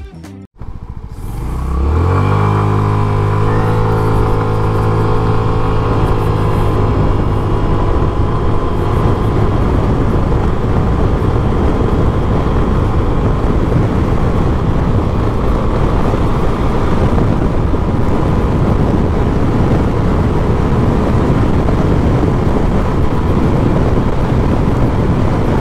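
An FKM Labi 150 motorcycle starts up, and its engine climbs quickly into a loud, sustained drone. The drone holds steady and close for over twenty seconds, with no talking.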